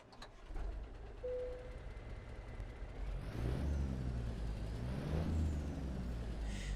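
A Western Star truck in American Truck Simulator starting up: a hiss and whir, then a deep engine rumble that swells and settles into a steady low idle, fairly quiet overall, with no voices.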